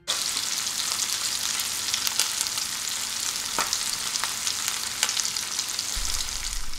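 Lamb chops fry in a pan with a steady, dense sizzle and crackle that runs without a break, a few sharper pops standing out; a single brief word is spoken over it.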